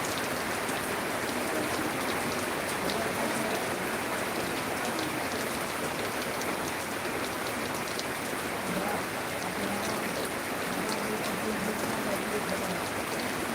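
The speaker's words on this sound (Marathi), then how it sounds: "एक नंबर पाऊस चालू आहे" Heavy rain falls steadily on a farm field, a dense, even hiss of drops that stays loud and unbroken throughout with no pauses.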